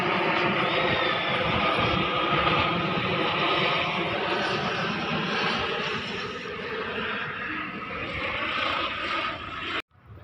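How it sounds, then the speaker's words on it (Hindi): A droning helicopter engine hums steadily overhead, loud at first then gradually fading, before cutting off abruptly near the end. "बार बार एक हेलीकॉप्टर भी आराम से घूम रहा था"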